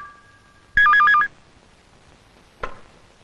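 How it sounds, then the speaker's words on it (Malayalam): Telephone bell ringing in a Malayalam film scene, a short burst of rapid trilling rings followed by a brief click, with no talk over it. "അരുൺ ഫോൺ"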